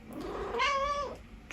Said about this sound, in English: Here's the cat coming to say hello.